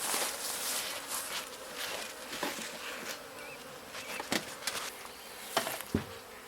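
Honeybees buzz around a small hive in an apiary, a close, steady hum broken by sharper passes of individual bees flying near, with faint footsteps or handling sounds and no talk.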